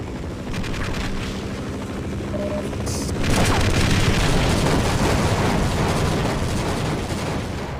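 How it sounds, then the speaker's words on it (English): A helicopter in the video game Half-Life fills the scene with a steady, loud rotor drone, joined midway by heavy booming bursts of gunfire that stay dense and continuous to the end. "that helicopter ain't going away"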